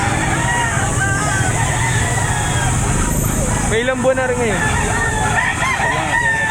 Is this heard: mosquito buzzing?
no